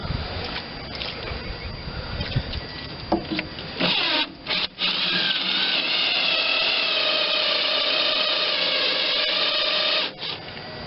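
A drill bores through thick metal on a Vermeer BC625A machine, a steady loud whine running nearly continuously with a few brief dips as the bit bites and pauses.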